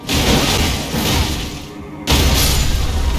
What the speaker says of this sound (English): Nice, lovely explosion.